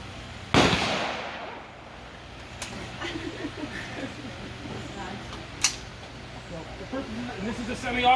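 A .22 LR semi-automatic rifle styled like an AR-15 fires one sharp, loud close shot, followed by quieter handling noise, clicks and a second fainter pop, with someone speaking in between.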